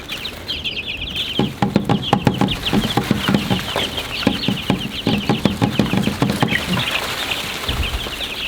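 A flock of chickens clucks steadily outdoors, with dense overlapping clucks and calls, close and fairly loud, and pattering steps beneath them.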